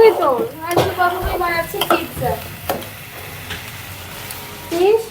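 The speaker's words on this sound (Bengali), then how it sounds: "পোলাও রান্না করতেছি" Pilau rice cooks in a pot, with a spoon scraping and clanking against the metal and soft stirring noises, while someone talks over it.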